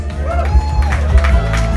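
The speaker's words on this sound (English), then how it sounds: "Round of applause." Audience applause and cheering at a live performance event greeting a presenter coming on stage: a loud crowd roar with clapping and whoops, close and dense throughout.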